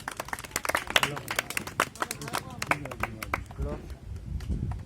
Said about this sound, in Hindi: ताली लगाओ बाबा के नाम पर।